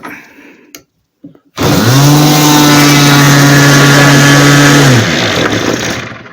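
A small RC glow engine roars at full throttle inside a little room, kicking in abruptly after a few faint clicks and holding a loud, steady, high buzzing drone for several seconds before easing slightly at the end, with no talking.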